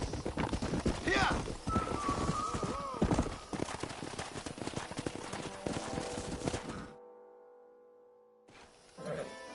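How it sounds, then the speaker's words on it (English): Horses gallop in the Red Dead Redemption video game, a quick rhythmic clip-clop of hooves with a whinny, running under speech before cutting off. "We got some fine horses."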